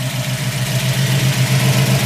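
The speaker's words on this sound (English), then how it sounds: "hear those solid lifters. Really lets the RPMs grab." A 1970 Ford Boss 302 V8 with solid lifters, long-tube headers and dual exhaust idles close and loud, a steady, even rumble with no one talking.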